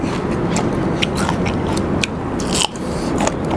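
Crispy fried pork tail being bitten and chewed close up, with loud, steady crunching and crackling bites running throughout and no talk.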